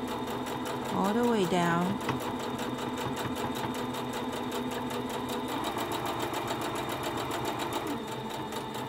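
A sewing machine runs steadily, stitching fabric for a pleated face mask with tabs and a filter pocket, its rapid mechanical hum continuous and close throughout while a person talks over it.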